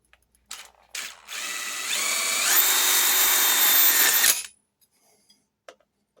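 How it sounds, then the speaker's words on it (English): A power drill drives self-tapping screws through a 1/4 inch drive socket into a metal greenhouse bracket, a loud whining burst that rises in pitch as it spins up, runs for a couple of seconds and stops abruptly. "I'm going to come in with my self-tappers, my 1/4 inch drive socket self-tappers, line my bracket up."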